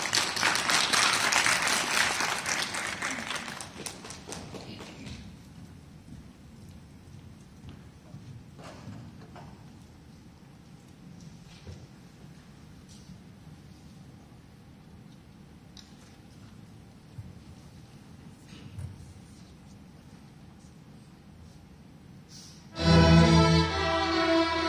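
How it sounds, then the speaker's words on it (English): An audience at a high school orchestra competition applauds to welcome the performers. The clapping is loud and dense for about five seconds, then fades into a quiet hall, with a brief louder burst near the end. "Please welcome them with a round of applause."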